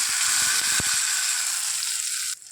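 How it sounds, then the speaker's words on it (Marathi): Loud, steady sizzle of cumin and curry leaves hitting hot oil, a bright hissing crackle that runs without pause and drops off abruptly near the end. "आता आपण त्यामध्ये जिरं आणि कढीपत्त्याची फोडणी देऊया"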